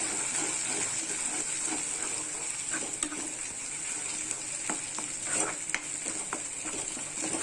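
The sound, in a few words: ginger garlic paste and chicken masala mixture frying in oil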